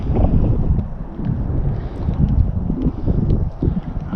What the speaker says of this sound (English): the wind was going to pick up a bit